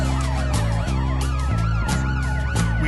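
Emergency vehicle sirens wail loudly and continuously, several overlapping tones sweeping up and down over a heavy rumbling engine and traffic bed.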